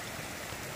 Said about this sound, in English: Pretty little stream here along the side of the trail.